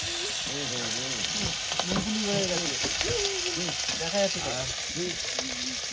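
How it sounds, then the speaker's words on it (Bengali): Fish sizzling in a pan at a riverside picnic in the Sundarbans, a constant crackle under nearby chatter and voices, with a busy, lively background. "এদিকে আবার মাছ ভাজা চলছে।"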